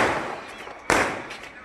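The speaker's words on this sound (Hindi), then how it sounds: "देखो पटाखा" A firecracker going off in a village during wedding preparations, one sharp loud burst amid distant crackling pops, with people talking nearby.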